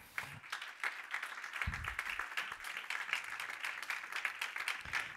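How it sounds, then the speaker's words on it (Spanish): A church congregation claps in steady, rhythmic beats at a moderate distance, the sharp hand claps repeating evenly over a few seconds with faint low rumbles beneath. "Dale palmas al Señor."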